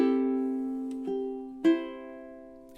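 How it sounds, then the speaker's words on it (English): A ukulele plays a slowing phrase from a gentle song in the style of Lean On Me: a sustained chord rings, followed by a few plucked notes and chords spaced further apart as the tempo eases off, close and alone. "So measure 19 in time with the retard sounds something like this."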